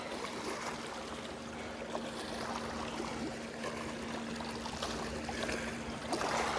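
Waves lap and slosh steadily against a boat or shore at Bartlett Lake, a continuous close watery wash with faint splashes and no speech.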